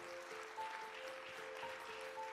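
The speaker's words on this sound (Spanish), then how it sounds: "Dale un aplauso a Jesús si tú lo crees" Steady applause in a church service, a broad even wash of clapping that holds for a couple of seconds, with a faint sustained tone underneath.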